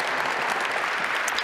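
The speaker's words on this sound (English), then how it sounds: "So give them a round of applause." A large keynote audience at a cloud native conference applauds new platinum members HCL and Infosys, a brief dense wash of steady clapping.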